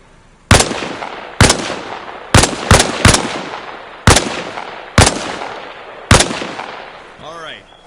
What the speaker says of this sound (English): Position yourself behind the wall and lean out while firing.